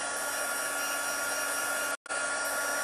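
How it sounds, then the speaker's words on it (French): A heat gun blows steadily over a wet craft piece, a loud continuous airy whoosh that cuts out briefly near the end and resumes, with no voices. "Soit avec le pistolet chauffant. C'est ce que je vais faire là tout de suite."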